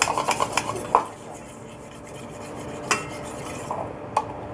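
A spoon stirs a small batch of ingredients and water in a bowl, making a continuous soft scraping swish punctuated by sharp clinks against the bowl, close by and without talk.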